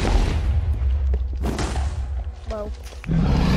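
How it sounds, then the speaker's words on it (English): A Minecraft explosion: a loud, low booming roar at the start that rumbles on, followed by thuds and scattered game sounds, with a short tonal game effect near the end. "Big explosion!"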